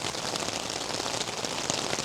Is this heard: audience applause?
no